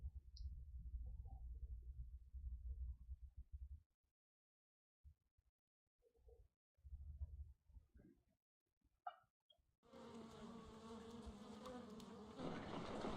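Bees buzzing in a Sherlock Holmes video game, a dense low drone that fades out, returns in short bursts, then gives way to a louder, brighter swell of sound.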